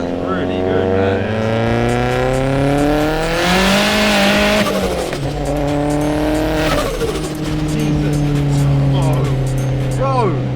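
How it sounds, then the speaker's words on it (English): A 500 hp turbocharged Vauxhall Astra VXR revs hard and loud up close, its engine tone rising and falling with fluttering bursts of turbo compressor surge between pulls. "This is the loudest compressor surge I've literally ever heard"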